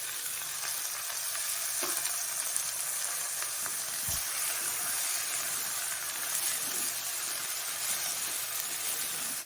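Ivy gourd (kovakkai) frying in a pan for a Tamil-style poriyal, a steady close sizzle and crackle with occasional stirring taps, continuous and without talk.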